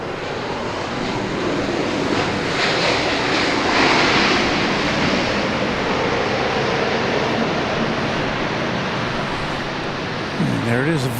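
A Southwest Boeing 737-800 jet roars loud and steady on landing at Dallas Love Field, a broad wash of engine and wind noise that swells slightly mid-way and holds, with a brief voice near the end.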